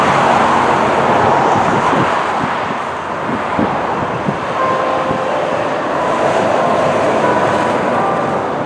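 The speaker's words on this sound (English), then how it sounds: "I got a couple Freightliners passing me." Freightliner trucks passing on a highway, heard as a steady broadband road roar with wind rush that swells and lingers close by for several seconds, no voices.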